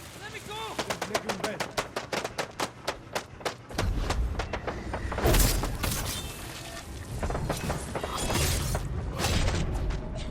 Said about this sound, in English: what we'll do here is firecracker to draw everyone over